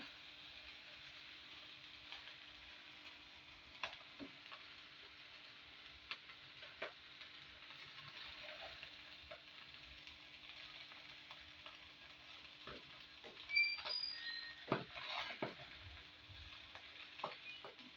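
A spatula stirs mixed fried rice in a small, overfull kadai on a gas stove, giving soft, faint scraping and a low sizzle broken by scattered light clicks and knocks against the pan.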